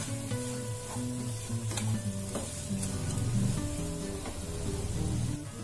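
Ridge gourd with dry coconut powder sizzles steadily in a hot pan while being stirred, a continuous close frying hiss with soft scraping clinks and no talk.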